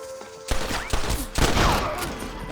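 A fusillade of rapid gunshots in the video game Red Dead Redemption, several sharp cracks in quick bursts over about two seconds, loud and close, following a brief quiet moment.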